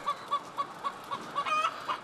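Laying hens in a henhouse cluck in a rapid, regular series of short calls, close and clear, with one longer squawk near the middle and no voices.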